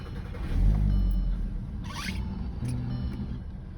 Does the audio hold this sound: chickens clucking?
no